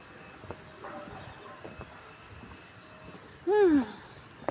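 Bird in a garden giving one short, loud, falling call near the end, after a quiet stretch of faint background sounds.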